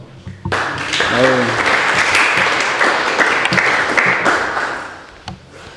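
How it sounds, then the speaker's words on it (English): Audience applause after a Ruby programming talk, a loud, dense burst of clapping that holds steady for about four seconds before tapering off into a few scattered claps. "please give a round of applause"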